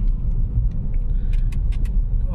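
A 2023 Toyota Hyryder E NeoDrive mild hybrid car drives along a road, giving a steady, loud low rumble of engine and tyre noise with a few faint clicks and rattles above it.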